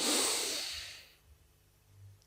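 One deep belly breath in a breathing exercise for women's pelvic floor muscles: a long, close, breathy exhale that starts strong and fades out over about a second, followed by near quiet.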